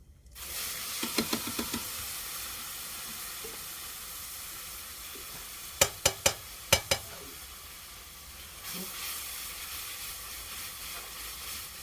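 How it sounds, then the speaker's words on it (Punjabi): A tadka sizzles for saag on a clay stove, a steady close hiss of hot oil interrupted by a few sharp clinks of a utensil, with no talk. "ਤੜਕਾ ਲਾ ਲਈਏ ਸਾਗ ਨੂੰ"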